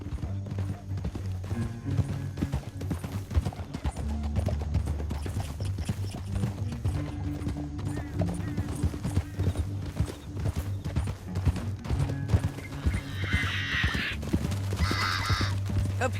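Several horses gallop in Red Dead Redemption 2, their hooves clip-clopping in a steady, dense rhythm under low musical drones, with a brief whinny-like burst near the end.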